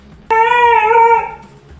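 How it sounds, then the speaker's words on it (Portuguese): A Siberian husky lets out a loud, sustained scream-like howl with a sharp onset, holding a strong harmonic tone for about a second before tapering off, with no other sounds alongside. "o husky siberiano. Ele é um dos poucos cachorros que tem uma vocalização própria."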